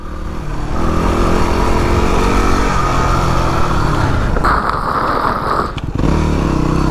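A Yamaha WR250R dual-sport motorcycle ridden on a rough road, its engine droning loudly and steadily up close with wind rush, the pitch shifting as the throttle eases and then picks back up.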